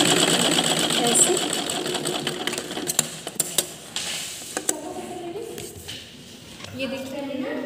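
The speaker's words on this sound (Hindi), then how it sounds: "ऊपर से हम टॉप स्टिच सिलाई कर लेंगे" A sewing machine runs steadily while top-stitching a smocking frock, its rapid whirring stitch continuing alone for several seconds before easing off near the end amid a few light handling clicks.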